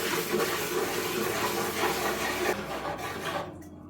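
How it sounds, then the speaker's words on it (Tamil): Curd being stirred into chicken biryani in a pot, a steady close scraping and rubbing of a spoon through the thick mixture that runs continuously before easing off near the end. "சேர்த்துட்டு இப்போ மிக்ஸ் பண்ணி விட்டுடலாம்."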